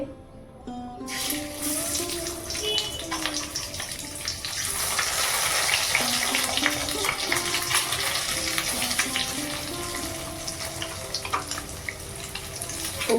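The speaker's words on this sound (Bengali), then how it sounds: "সরষে তেল দিচ্ছি কড়াতে ডিম ভাজবো ডিমটা দিচ্ছি" An egg frying in mustard oil in a kadai, with a loud, continuous close crackle and hiss that builds after a quiet opening second and carries on without talking.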